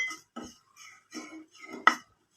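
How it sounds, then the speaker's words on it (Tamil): Dry ginger roasting in a pan for sukku malli coffee, heard as a series of short metallic scrapes and clinks of pan and utensil, five or six separate bursts, close and clear with no talk. "இதையும் அப்படியே வறுத்துக்கலாம்."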